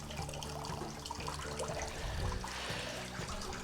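Water pours through a perforated plate in separate streams during a home-brewing sparge experiment, a steady splashing and trickling that swells briefly near the end, close and continuous with no speech.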